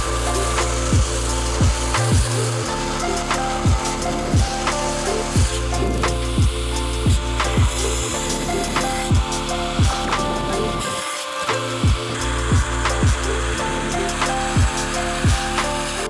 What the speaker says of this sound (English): so we're going to profile with this old belt